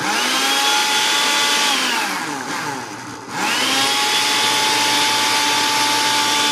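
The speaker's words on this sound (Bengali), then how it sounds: "এখন ব্লেন্ডার চলবে।" An electric blender grinds spices for a home mix with a loud, close, high-pitched whine, dipping briefly as the motor slows under load, then surging back up and running on steadily.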